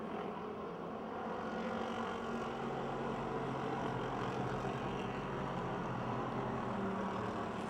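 Stock cars racing around Pennsylvania Motor Speedway near Pittsburgh, a dense, steady roar of engines from a distance blending into one continuous drone for several seconds, no voices heard.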